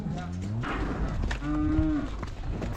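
Cows lowing inside a farm shed during calf handling, several drawn-out moos overlapping close by, with shuffling livestock noise and occasional human voices around them.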